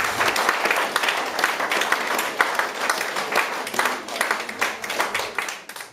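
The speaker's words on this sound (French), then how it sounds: "Bravo, les applaudissements." A fight crowd applauds after a spinning back kick, with dense, lively clapping close by that thins and fades toward the end, and faint voices in the mix.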